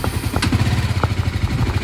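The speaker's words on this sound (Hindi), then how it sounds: "लेट्स सी गाड़ी स्टार्ट होती है या नहीं एक बार में।" A motorcycle engine in cold mountain weather on the ride from Muktinath to Pokhara, Nepal, catches and settles into a steady, close, loud idle with a regular low pulsing throb and no talk.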